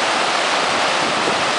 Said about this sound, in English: This would be right in the confluence of Thunder River.